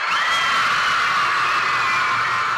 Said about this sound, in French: L'annonce de la première lauréate est suivie d'applaudissements.